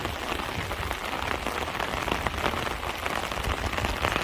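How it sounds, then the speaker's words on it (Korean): Heavy rain pouring steadily onto surfaces in a countryside setting in May, a dense continuous hiss and patter with scattered drops, close and uninterrupted, with no talk. "진짜 비가 너무 많이 온다"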